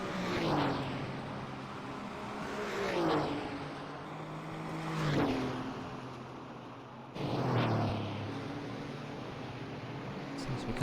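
Porsche 935/K3 race cars at Road America in a racing game, several cars roaring past one after another with rising and falling engine whines, with commentary talk over them.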